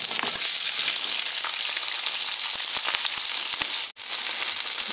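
Chopped onion sizzles loudly in hot oil in a frying pan, a dense, steady crackling hiss with a brief dip partway through.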